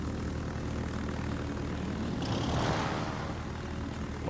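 Carrier aircraft engines drone steadily in World of Warships, a continuous propeller hum that swells slightly as planes pass, with no talking.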